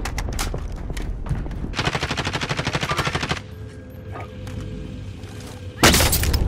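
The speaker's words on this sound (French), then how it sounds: "Je me fais tirer dessus" Rapid machine-gun bursts ring out in a Call of Duty Warzone Pacific match: a sustained rattling volley, then quieter ambience, followed by another loud burst of fire at the end.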